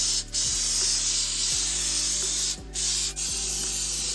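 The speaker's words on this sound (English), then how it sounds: "And then I'm about to spray this clear chip guard." An aerosol can of clear chip guard sprays onto an E46 M3 being painted Laguna Seca Blue, a steady close hiss running in long bursts with a few brief pauses between passes.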